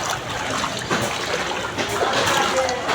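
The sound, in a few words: walking through floodwater on a street, splashing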